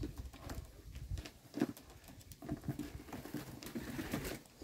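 Yellow Czech show pigeons being released into a new loft, soft cooing and low murmuring calls with light wing patter and shuffling, fairly quiet and close, no talk.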